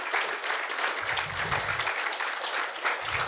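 A conference audience at Arweave Day 2025 breaks into sustained applause, a thick wash of many hands clapping evenly throughout, with a few low thumps underneath and no talking.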